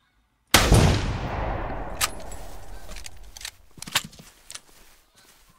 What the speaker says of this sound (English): I killed it with one shot while it was sleeping